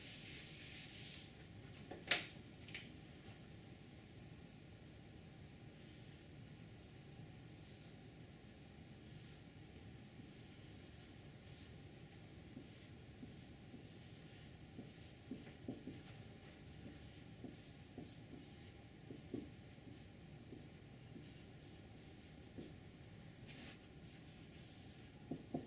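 A pen draws a voltage regulator circuit diagram, a faint scratching and rubbing of the tip with small irregular ticks over a quiet background hiss, with no voices.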